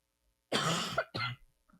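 Two sharp coughs close by, the first longer and harsher, the second shorter, followed by a faint throaty sound in a quiet room.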